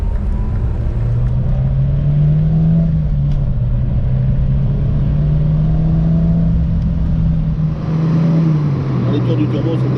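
Renault Super 5 GT Turbo engine running in a steady low drone with a gentle rise and dip in pitch, close and loud, while people talk over it.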